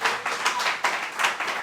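A church congregation at Igreja de Nova Vida do Catete claps in unison. Loud, evenly spaced beats come roughly every half second, close and lively, with no talking over them.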